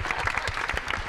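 Students applaud at a film interview event for SIR with quick, dense, continuous clapping throughout.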